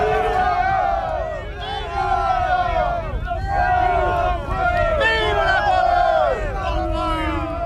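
Napoleon's troops at their Austerlitz bivouac fires, thousands of soldiers cheering "Vive la France": a loud crowd of many voices shouting together in repeated swelling waves.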